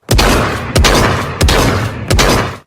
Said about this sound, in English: the Punisher's bullets left his chamber